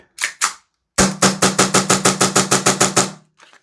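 A Novritsch SSP-5 airsoft pistol fires using a TM-spec magazine: two sharp, separate shots, a brief pause, then a fast, even string of about a dozen loud, close cracks, ending with faint mechanical clicks.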